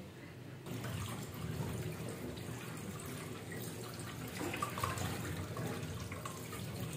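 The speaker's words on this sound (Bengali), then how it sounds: "এই যে ছানাটা একটু ধুয়ে নিচ্ছি" Chhena, fresh cottage cheese, is washed under running water, a soft continuous splashing and trickling into a vessel that starts after a brief quiet moment and stays low throughout, with no talk.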